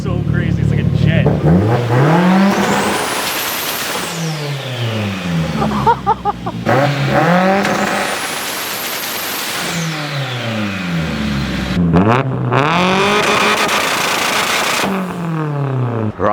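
A tuned 1000 hp Mitsubishi Lancer Evolution IX engine revs hard close by in repeated long climbing sweeps, rising to a high scream and dropping back between pulls, with voices heard briefly.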